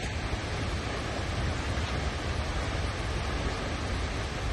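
A waterfall in Iceland roars in a constant, heavy wash of falling water, loud and close with no breaks.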